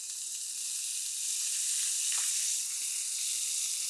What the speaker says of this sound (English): you can hear the instant sizzle as soon as we go in